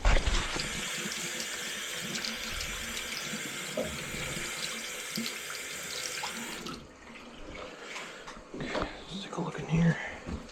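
Tap water rushes steadily through a newly installed valve under a sink, loud and close for several seconds before it drops away, with quiet talk and handling noises after.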